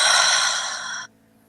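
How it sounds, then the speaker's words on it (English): A single deep cleansing breath drawn during a guided meditation, a long airy exhale close to the microphone that stops abruptly after about a second, with no talking. "take a deep cleansing breath"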